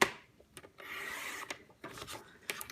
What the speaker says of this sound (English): Now when I'm cutting a small measurement, I tend to do it at this side here on the trimmer.